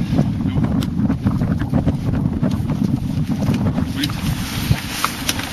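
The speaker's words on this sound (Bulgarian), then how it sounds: "мотора си е заехал" A boat motor runs steadily and close, its low churning drone blended with heavy wind buffeting the microphone, with no clear speech over it.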